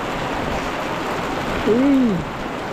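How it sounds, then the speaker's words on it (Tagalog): Heavy rain beats down steadily in a dense, broadband hiss close by. Near the end a brief tonal sweep, something like a chirp or whistle, rises over it. "Lakas, inabot pa tayo dito ng malakas na ulan."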